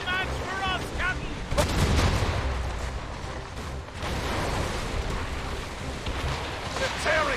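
Ship cannons in Assassin's Creed Rogue fire in loud, rolling booms amid a naval battle, the heavy blasts clustered together over wind, water and shouting voices.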